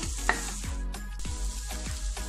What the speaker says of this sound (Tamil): நீங்கள் வந்து அடுப்பு வைத்தி வச்சிங்கன்னா கிண்டி விட்டுக்கிட்டே இருக்கணும்